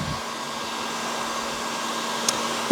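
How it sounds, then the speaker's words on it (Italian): A heat gun blows steadily on a decorative cord being warmed before painting an old bed, a continuous close whooshing hum with a faint tonal whine, holding even throughout with a small click near the end. "Utilizzo un phon termico per scaldare il mio cordone"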